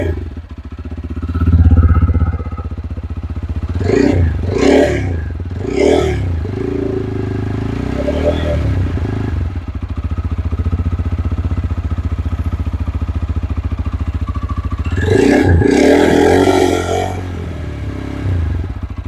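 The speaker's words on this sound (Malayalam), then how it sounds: "ഓ കൊള്ളാമല്ലേ, നമുക്ക് നോക്കാവേ എക്സോസിനോട്ട്." A TVS Apache RTR 160 4V motorcycle idles with a close, steady exhaust burble, then is blipped in sharp rising revs, first in a quick cluster of three and later in one longer burst.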